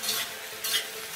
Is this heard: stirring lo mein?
yes